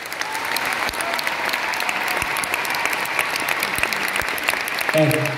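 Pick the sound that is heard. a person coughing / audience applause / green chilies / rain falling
audience applause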